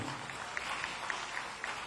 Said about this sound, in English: A round of applause one more time for him.